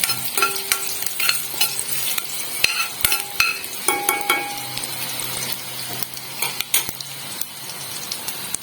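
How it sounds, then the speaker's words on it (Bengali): Dhokla batter mixture frying in a pan while being stirred, with a steady sizzle broken by repeated scraping and clinking strokes of a spoon against metal, close and fairly loud throughout, no voices. "এটাকে একটু ভালো করে ভাজা ভাজা করে নেব"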